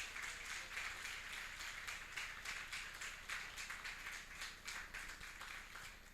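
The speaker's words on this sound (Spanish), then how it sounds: "Dale un fuerte aplauso al Señor." Church congregation applauding together, a steady dense wash of clapping that holds evenly from start to finish with no voices standing out.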